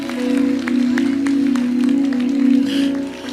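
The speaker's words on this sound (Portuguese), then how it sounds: "Aplauda Jesus aí, exalta ao Deus poderoso aí." A church congregation claps along under a strong sustained tone from music or an organ, the scattered hand claps sitting beneath the loud held pitch.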